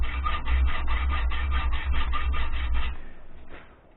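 A gunsmith making a series of hand cuts, heard as close, rhythmic rasping strokes at a quick, even pace for about three seconds, then a softer scrape as the work eases off.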